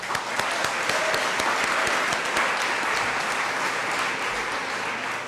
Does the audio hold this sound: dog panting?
no